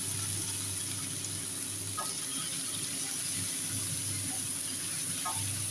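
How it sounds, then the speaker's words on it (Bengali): Potatoes and seeded bananas frying in a pan with salt and turmeric, heard as a steady, even sizzle with a low hum underneath and a couple of faint clicks. "নুন হলুদ দিয়ে আলুগুলোকে ভালো করে ভেজে নেব"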